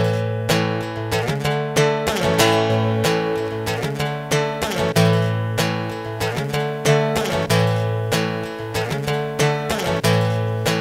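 A first loop recorded on a loop pedal plays back as a steady repeating musical phrase, with rhythmic plucked or strummed attacks over sustained low tones, loud and continuous with no voices.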